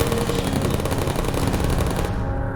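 Rapid, dense video game gunfire shooting down turrets: continuous loud automatic bursts that rattle without pause, then cut off abruptly near the end.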